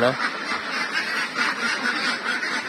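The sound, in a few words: ducks quacking on a farm, 8 to 9 months old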